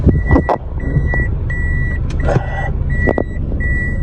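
A car backs up with a regular series of loud reversing beeps, evenly spaced over the steady rumble of the engine, close by.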